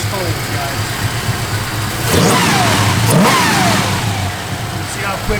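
The engine of a 1971 Chevrolet Monte Carlo with Holley EFI and a mild cam is revved twice in quick succession, each rev climbing sharply and falling back to a lumpy idle, loud and close.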